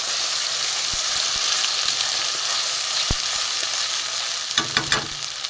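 Onion, garlic, ginger and tomato masala sizzles steadily in hot oil for an egg curry, a dense continuous frying hiss with a few spoon taps and scrapes near the end.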